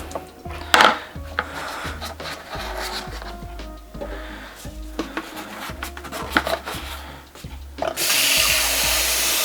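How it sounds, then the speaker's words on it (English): A part of a Taotronics warm and cool mist humidifier is scrubbed with rhythmic rubbing and scraping strokes close up. Bumps and knocks come in between, and a broadband rushing noise like running water starts near the end. "And scrub it one more time."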